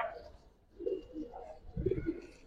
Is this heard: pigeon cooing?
yes